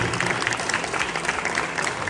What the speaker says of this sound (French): J'aimerais un tonnerre d'applaudissements pour Alexis Santamaria